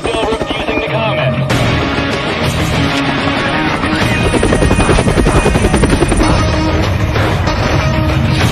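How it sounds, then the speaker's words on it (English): A helicopter flies loud and close in a news-style scene about a runaway train, its rotor chop and engine roar steady throughout with music or a soundtrack mixed in. "Now they're sending a chopper with Ryan Scott"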